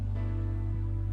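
A G 6-9 chord sounds as one sustained, steady ringing tone, held at moderate level throughout with no voices.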